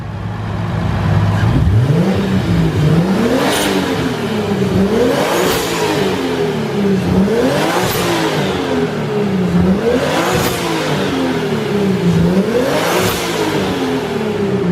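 Toyota Supra with a new turbo revving hard, loud close engine rising in repeated pulls every couple of seconds as boost builds, no talk.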